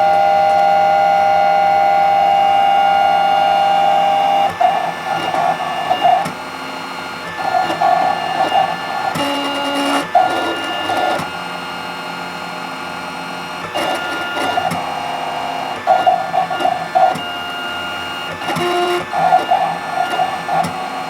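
A cutting machine drawing with a pen in place of a knife for a glass carving stencil whirs and buzzes loudly up close, with a steady motor tone broken by shifting whines and short mechanical bursts as the carriage moves.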